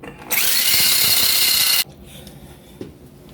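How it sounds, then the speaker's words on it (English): A right angle drill drills out a broken bolt while a Jeep TJ is being reassembled, a loud steady whine that starts abruptly, holds for about a second and a half, then cuts off to quiet shop noise. "So I'm using a right angle drill and the wrong drill bit"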